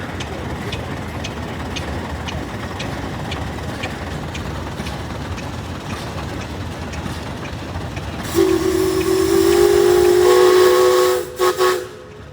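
Steam tractors rumble past at a steam and gas association parade with steady chuffing, then a loud, sustained steam whistle blows for a few seconds before cutting off with bursts of hissing steam.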